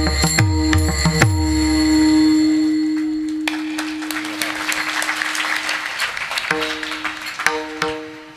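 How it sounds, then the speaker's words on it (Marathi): A kirtan audience bursts into applause after a sung passage, the clapping swelling to a dense, sustained wash of many hands before tapering off, with harmonium-like tones ringing at the start and returning near the end. "टाळ्या पक्वाद्यासाठी आहेत का माझ्यासाठी?"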